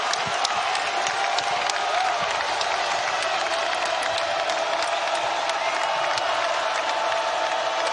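A packed college basketball arena crowd roars and cheers steadily during a close Liberty vs LA Tech men's game, with dense applause and whoops throughout at a loud, sustained level.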